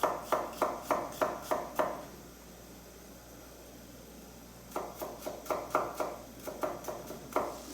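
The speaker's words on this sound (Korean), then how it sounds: "마늘도 채에 썰어서 준비해주세요" Close knife chopping of garlic into thin strips on a cutting board, a quick run of sharp even taps, a pause of quiet, then another steady burst of chops.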